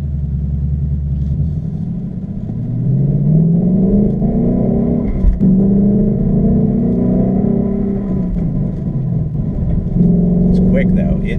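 A $50,000 Ford Mustang GT pulls hard around a race track, its engine droning loud and steady with rising and falling pitch as it accelerates and lifts, sounding close and continuous throughout.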